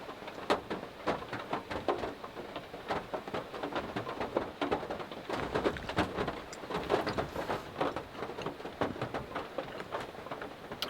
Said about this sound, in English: Still raining pretty good out there.